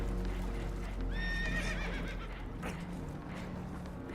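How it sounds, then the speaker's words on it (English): Horses whinny in the Red Dead Redemption 2 video game aboard a leaking boat, a sharp near neigh rising above a low steady rumble of water and engine noise, with faint hoof clatter beneath. "Horses are spooked, and we're taking on water."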